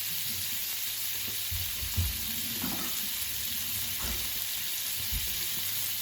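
Garlic frying in a pan for carbonara, a quiet, constant oily sizzle with occasional soft scrapes of stirring, heard alone with no voices.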